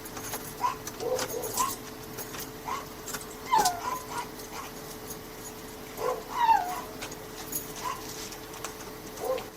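A dog whimpers and whines in short, high, plaintive bursts, spaced a few seconds apart, over a low steady background hum.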